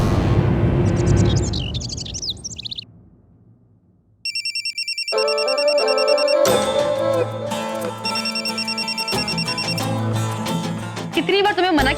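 A telephone ringtone trills in repeated electronic bursts, loud and close, alternating with bird-like chirps, in a Hindi television crime drama scene; a voice speaks over parts of it.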